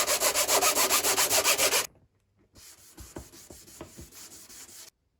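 Brisk, rhythmic rubbing of sandpaper over small model car fins held down with double-sided tape, about a dozen quick even strokes, then a pause and a lighter, sparser round of scratchy sanding.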